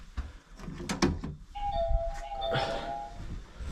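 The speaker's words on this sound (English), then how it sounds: "The old doorbell ringing." An old house doorbell chimes with a sustained ringing tone that lasts about a second and a half, fairly close by. It is heard over background room noise and some clattering.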